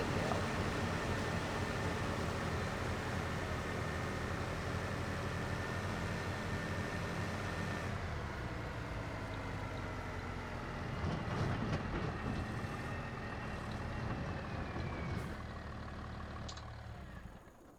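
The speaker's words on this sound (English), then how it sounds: "I can move the water truck completely out" A water truck in Farming Simulator 25 drives with a steady, loud engine rumble and drone, continuous throughout, fading slightly at the very end, with no talking.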